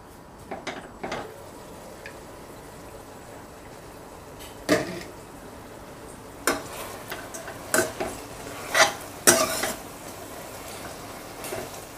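A spoon stirring raw green tomatoes in a pan for chutney, quiet scraping with scattered sharp clinks against the metal that grow more frequent toward the end, over a faint steady background hiss.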